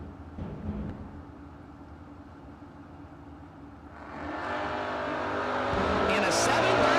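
A Valiant and a Mustang drag racing car launch down the strip, their engine roar building sharply partway through and staying loud under an announcer's running commentary.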